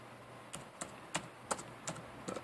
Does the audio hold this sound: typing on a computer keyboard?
yes